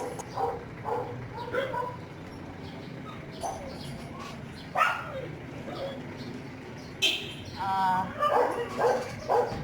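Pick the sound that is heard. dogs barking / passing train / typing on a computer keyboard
dogs barking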